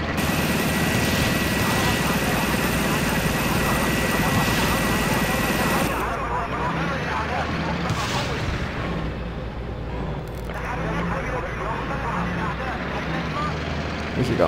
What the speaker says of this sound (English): Where's that chopper?